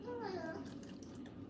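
Water is poured into a pan around a meatloaf, giving a short, close trickling splash while someone talks over it.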